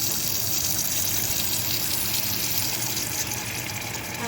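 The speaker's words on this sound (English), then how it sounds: "And then I'm just gonna add water to this pot." Water pours steadily into a cooking pot holding unpeeled ginger, a loud, continuous close gush that fills the whole moment without a break.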